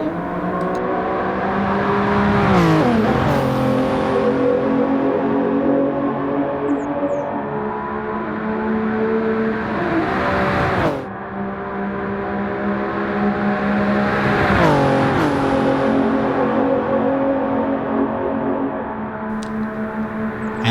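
Race cars, a LaFerrari among them, accelerate hard past in a championship race, engines rising in pitch through gear changes in two loud successive sweeps, with a brief dip between them.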